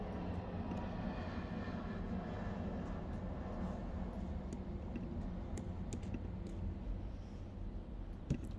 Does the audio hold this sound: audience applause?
no